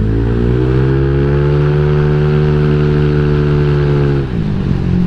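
A Honda Vario 150 eSP scooter fitted with enlarged BRT racing valves revs up close and loud, its engine note holding a steady high drone for several seconds before dropping sharply near the end.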